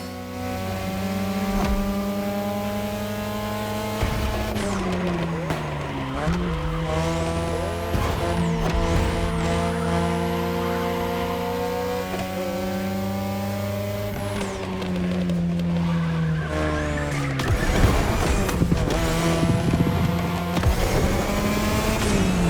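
A race car in The Crew Motorfest drives a Japanese mountain pass, its engine revving up and down through gear changes with tire squeal on corners, loud and close throughout.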